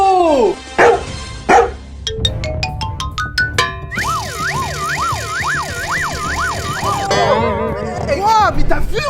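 A dog near a playground barks loudly twice at close range, then a wailing siren and bright electronic tones take over.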